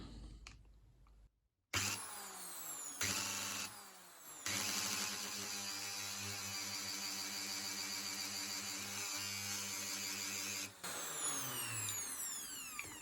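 A Bosch AHS 40-24 electric hedge trimmer runs after repair, started with a screwdriver: a loud, steady motor whine with buzzing blade rattle that cuts in abruptly, stops briefly, restarts and holds until a short dip near the end.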